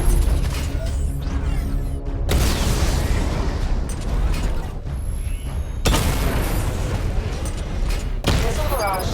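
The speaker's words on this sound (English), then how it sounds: "Destroy targets to charge up weapon energy and activate missile barrage." Repeated heavy missile blasts and booms from a Batman video game pound continuously, loud and dense, with a synthetic voice speaking over the barrage.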